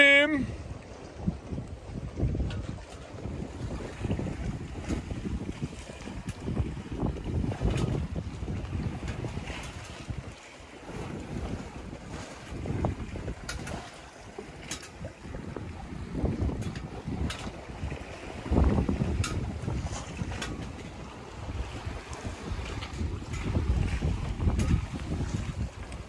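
Wind gusts across the microphone while a sailboat is sailed single-handed, a steady rumbling rush with broadband swells and water movement, loudest around the middle and end, no talking.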